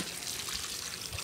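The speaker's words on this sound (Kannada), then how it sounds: "ಇದು ಈಗ ಕರಗಿಸಿಟ್ಟ ಮೆಂತೆ ಉಪ್ಪು ಮಜ್ಜಿಗೆ ಪಾಕವನ್ನು ಇದಕ್ಕೆ ಹಾಕ್ತಾ ಇದ್ದೇನೆ ನೋಡಿ" Fenugreek, salt and buttermilk mixture poured into a dish of green chillies, a soft steady watery trickle running close by throughout, with no talk.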